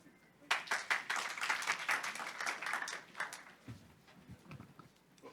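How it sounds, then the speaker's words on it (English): Audience members at a Taiwan–Africa CEO forum clap for a speaker returning to the stage, fairly quiet and somewhat distant, swelling into brisk applause for a few seconds and then thinning to scattered claps and faint murmurs. "Please give him applause."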